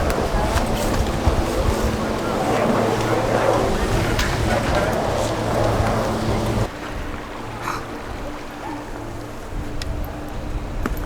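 Strong wind at a mountain ski area in Breckenridge, a steady, loud rushing roar buffeting the microphone that eases off partway through.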